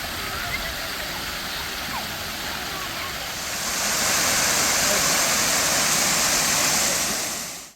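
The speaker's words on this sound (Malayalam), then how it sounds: "ഭയങ്കര രക്ഷയില്ലാത്ത തണുത്ത കാറ്റും വെള്ളത്തിൻ്റെ സൗണ്ടും" Rushing water and cold wind at a scenic spot near Mysore make a steady broadband roar that grows louder and brighter halfway through, then holds strong and continuous.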